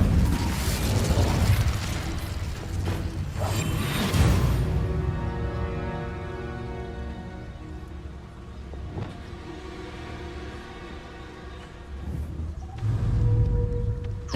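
Spell-casting effects from Hogwarts Legacy come as a run of loud bursts and booms, with a big blast early, a long ringing tonal tail, and further pops and impacts later on.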